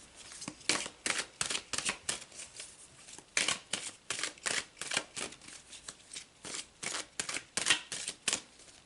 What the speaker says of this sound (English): Let's pull you another card.